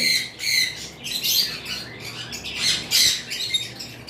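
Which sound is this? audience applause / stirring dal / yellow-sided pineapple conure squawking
yellow-sided pineapple conure squawking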